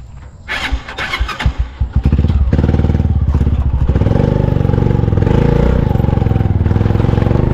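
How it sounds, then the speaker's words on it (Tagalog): Motorbike-style tricycle engines rumble along a highway, with an engine clattering and revving in short bursts before settling into a loud, steady close drone. "Ay, mga dumadaan tricycle oh."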